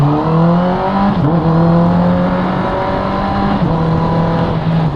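Honda CB650R motorcycle with an Akrapovic exhaust, its steady engine drone rising and dipping with gear changes, loud and close throughout with no talk.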